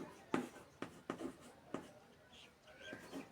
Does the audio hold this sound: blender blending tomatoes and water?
no